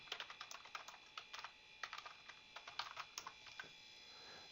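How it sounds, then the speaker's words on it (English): Someone types on a computer keyboard in quick, uneven runs of soft, close key clicks with brief pauses between words, with no one speaking. "So let's type this in."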